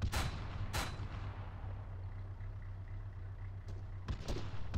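A vehicle-mounted gun in ArmA 3 fires heavy, booming shots: two near the start and a quick pair near the end, each with a long rumbling echo over a constant low engine drone.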